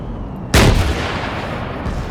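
One heavy tank cannon blast in a war video game, a sudden loud boom that rolls off into a rumbling decay over low background noise.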